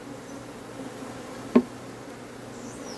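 An Africanized honey bee swarm buzzes in a steady, close drone, broken once midway by a sharp single knock.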